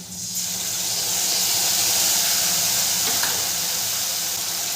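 Ginger and green chilli spice paste frying with potatoes and turmeric in a pan: a steady, loud, close hiss and sizzle with faint stirring scrapes, no voices.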